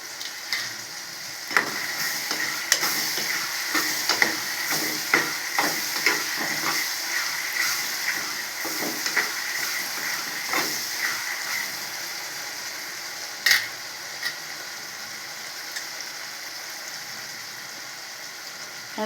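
Curry leaves sizzling in hot frying oil: a continuous crackling hiss with many sharp pops and spatters, busier early and easing later, close by, with a few utensil knocks.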